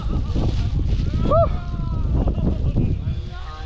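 Strong wind buffets the microphone on a hilltop at Lohgad Fort near Lonavala, where fog has settled in, producing a loud, continuous low rumble while people talk over it.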